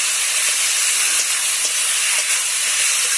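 Water splashed into a hot spice mixture in a pan sends up a loud, continuous close hiss of steam and sizzle that holds steady throughout.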